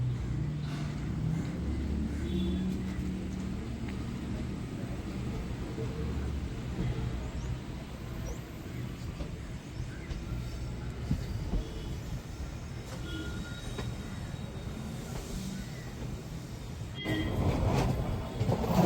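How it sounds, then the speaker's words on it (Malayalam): Shoranur-Kannur Express, an all-general-compartment train, rolling out of Shoranur Junction, with steady low rumble and wheel clatter heard from inside a carriage and a brief squeal toward the end. "അങ്ങനെ നമ്മൾ ട്രെയിൻ ഷൊർണൂർ ജംഗ്ഷനിൽ നിന്നും പുറപ്പെട്ടു."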